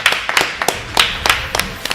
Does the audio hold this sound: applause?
yes